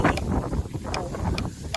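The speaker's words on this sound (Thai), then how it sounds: "ลมนะแห้งแห้งพี่น้อง" Dry, cold-season wind blows across the Isan countryside of Thailand, buffeting the microphone with a loud, continuous rushing roar and a few faint ticks.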